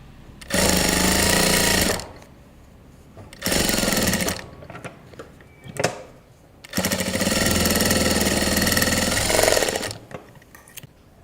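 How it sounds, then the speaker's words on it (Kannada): A sewing machine stitches two kurta pieces together in loud, rapid bursts of whirring needle strokes, several runs of a few seconds each separated by short pauses with faint handling noise. "ಸೊ 2 ಜಾಯಿನ್ ಮಾಡಿ ಸ್ಟಿಚ್ ಮಾಡ್ಕೊಳ್ತೀನಿ ನಾನು"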